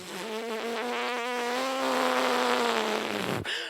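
A performer at a youth festival mimicry act voices a racing car with a sustained, buzzy engine drone that holds steady, rises slightly in pitch, then cuts off abruptly near the end.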